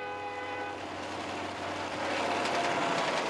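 A diesel train rumbles along with a steady mechanical roar, its horn sounding high, tonal and sustained early before the noise swells louder.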